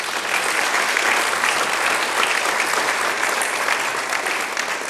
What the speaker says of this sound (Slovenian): aplavz za njih bi prosil